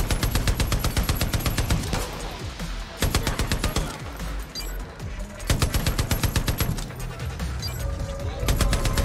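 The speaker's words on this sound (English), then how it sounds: "Who's shooting?" Automatic gunfire in Far Cry: New Dawn on an aircraft carrier, loud rapid rattling bursts that stop and start several times, with brief gaps and voices now and then.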